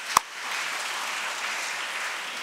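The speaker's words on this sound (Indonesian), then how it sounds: "Tepuk tangan untuk guru saya ini." An audience in a church hall claps steadily at a Sunday Lenten service held with a centennial celebration, a dense even patter of applause after one sharp click at the start.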